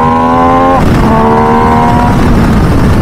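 A 2023 MV Agusta Dragster 800RR exhaust pulls hard in second gear near 6,000 RPM, a loud, close, rising engine howl that climbs in pitch, dips briefly at a shift-like break, then keeps building with no talking.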